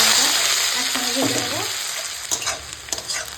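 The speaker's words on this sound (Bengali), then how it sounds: "পেঁয়াজ আর কাঁচা লঙ্কাটা এরকম হালকা করে ভাজা হয়ে গেছে" Sliced onion and green chilli sizzle loudly in oil with a bay leaf, then soften to a quieter fry as a spoon scrapes and stirs in a few quick strokes.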